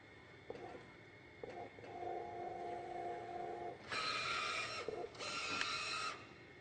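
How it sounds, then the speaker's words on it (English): Epson SureColor T-series printer running a nozzle check pattern, low mechanical whirring and a steady carriage hum, then two louder bursts of bright print-head buzzing, faint and close with no voices. "Press OK twice to begin printing a nozzle check pattern."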